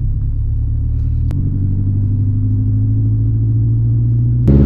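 Renault Sandero RS Nitro pulling hard from 80 to 140 km/h, a loud, close interior engine drone and road rumble holding steady throughout, with no talking.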